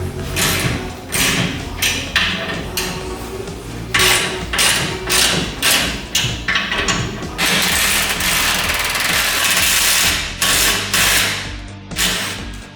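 A ratchet wrench loosens the bumper bolts on a 2018 GMC Sierra pickup, giving loud, close, rapid clicking bursts in repeated runs with brief pauses between them. No one speaks.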